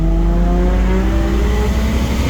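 A BMW N54 engine converted to a single turbo revs on boost, a loud, sustained engine drone with rising harmonic tones, heard close and alone.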